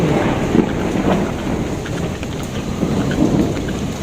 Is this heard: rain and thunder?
yes